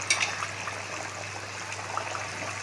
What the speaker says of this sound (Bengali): কত সুন্দর ফোট উঠছে